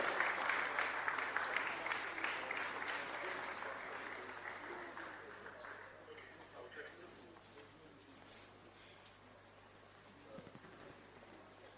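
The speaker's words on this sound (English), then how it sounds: "That applause can be better placed for him as he comes forward." Audience applause at an agricultural development and investment summit in Nigeria's Niger Delta as the NDDC managing director comes forward, loud clapping from a large hall that gradually fades under a low steady hum, with a voice speaking.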